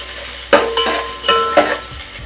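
Drumstick stems sautéing in a pan, with a steady sizzle broken by four or five sharp spatula scrapes and stirs against the metal, close and fairly loud, no voices.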